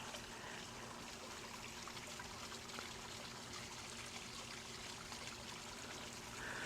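Constant splashing and trickling of a small garden waterfall pouring into a koi pond, steady and close, with no voices.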